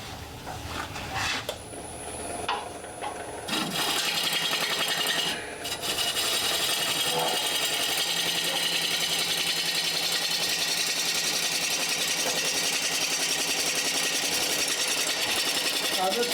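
Wood turns on an unfamiliar lathe, first with a few knocks and handling noises, then a loud, continuous rasping hiss of the cutting tool against the spinning wood that holds steady to the end.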